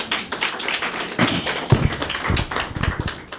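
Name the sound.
audience clapping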